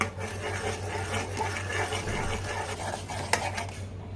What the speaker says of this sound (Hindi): इसे लगातार चलाते हुए गाढ़ा होने तक पकाना है।